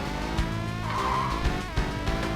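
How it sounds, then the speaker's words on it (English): A car skids and crashes in the Virtua Racing Deluxe racing game on the Sega 32X: a steady engine drone with tire squeal rising in the middle, then a few short impact bumps, with no talk. "I crashed because I got that understeer"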